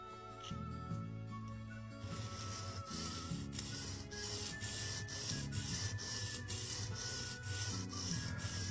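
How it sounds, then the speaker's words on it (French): A diamond-shaped leather awl is sharpened face by face, giving a steady, close rhythmic rubbing and scraping in repeated strokes over a faint background of music, with no talk. "Pour procéder à l'affûtage, il vous suffit d'affûter chacune des faces."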